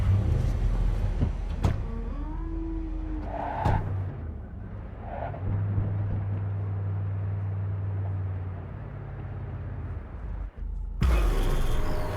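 A car in the video game Cyberpunk 2077 drives off, its engine hum rising and steadying under whooshes and a couple of thuds, then cutting out before a burst of noise at the end; no talk.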